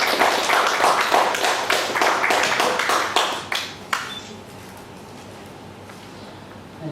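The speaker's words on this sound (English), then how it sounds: "Can we have a big round of applause?" An audience at the inaugural session of a valuation conference gives a round of applause, with dense, sustained clapping that thins out and stops at about four seconds, leaving a quiet room.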